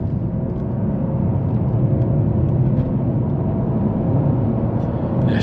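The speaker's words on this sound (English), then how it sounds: "So we can give a little more acceleration here" A 2021 BMW 540i xDrive with 40k miles accelerates on an open road, heard from inside as a smooth, low, steady engine and road rumble with no spoken voice.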